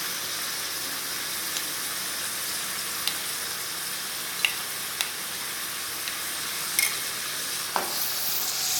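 Yogurt being whisked with korma masala in a bowl for a mutton korma biryani, a steady soft scraping and stirring hiss with a few light clicks of the utensil, close and continuous with no talk.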